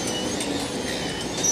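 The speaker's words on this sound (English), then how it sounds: "As the Z-Class tram departs" Rail noise from a Z-Class tram departing Flinders Street Station in Melbourne, a broad rumble with faint squealing of wheels on track, steady and fairly close.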